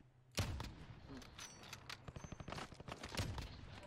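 Bursts of gunfire in the video game Warzone, with a sharp opening shot followed by a rapid string of rattling shots, fairly faint and mixed with a voice talking.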